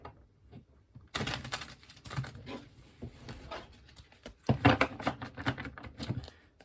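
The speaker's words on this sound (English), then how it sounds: "Some initial shuffling" Tattoo Tarot deck cards being shuffled by hand, a close, papery flurry of riffling and snapping in uneven bursts after a brief quiet start, loudest near the end.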